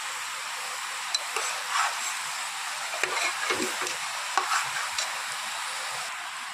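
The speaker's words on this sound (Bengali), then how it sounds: "এখন একটু নেড়ে নেব" Khichuri with rice being stirred and fried in a pot, a continuous bright sizzle broken by scattered scraping and clinking of a spoon, moderately loud, close and without voices.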